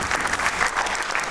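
Loud, dense applause from an audience at an Indian Sikh arts and film awards event as guests are welcomed with flowers, a continuous close crackle of many hands clapping at once.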